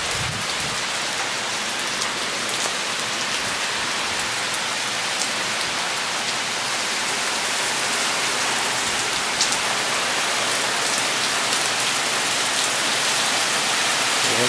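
Steady, dense heavy downpour, about 2 inches in an hour, a constant broadband hiss of drops hitting surfaces, loud and close, with no voices.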